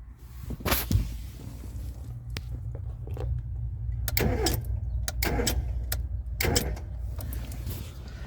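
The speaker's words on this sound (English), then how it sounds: "this little fella down here is my fuel pump relay, and that clicks when I turn the ignition" Fuel pump relay on a Mazda MX5 (Eunos Roadster), left abandoned for 13 years, clicking as the ignition is turned; several sharp, close ticks and clicks stand out over a steady low hum, with no talking.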